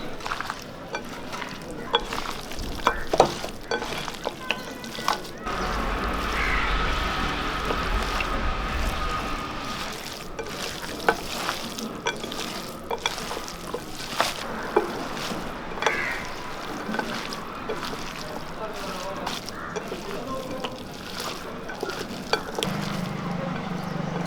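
Chicken is mixed by hand with garam masala, salt and coconut pieces, giving soft, wet squelching and rustling with occasional small knocks against the bowl, steady and close throughout.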